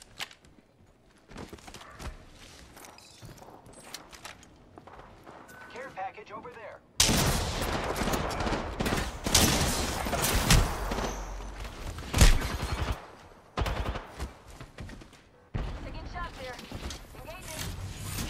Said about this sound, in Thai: ยิงแรงกันมากเลย